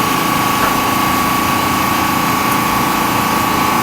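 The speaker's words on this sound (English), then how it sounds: "Sorry about the sound in the background. My fan is running." A household electric fan runs steadily in a hobby workspace, a loud, constant whirring drone with a faint tonal hum and no pauses.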